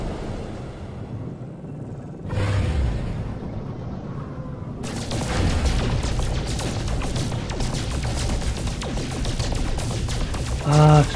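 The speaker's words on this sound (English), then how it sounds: "Asteroid shooting." Asteroids are shot in the video game No Man's Sky, producing a rapid, continuous burst of rattling laser fire and crunching impacts that starts after a quieter rumbling stretch and fills most of the clip.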